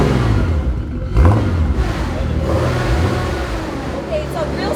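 A 1972 Nissan Skyline Hakosuka with a triple-carb turbo engine fires up and revs in sharp rising bursts close by, with people talking over the engine noise.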